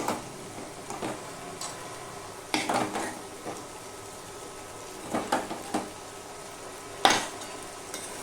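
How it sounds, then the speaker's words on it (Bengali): Dal being stirred and sautéed in a pan with fish head, Bengali style: a low steady sizzle with a few sharp scraping bursts of the spatula against the pan, spaced irregularly, close by and without talk. "ডাল দিয়েও আমি একটুখানি কষিয়ে নিয়েছি"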